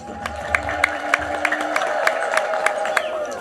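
A church congregation ululates in praise: a sustained, warbling mass of high voices carried over steady, evenly spaced hand claps that fill the whole stretch.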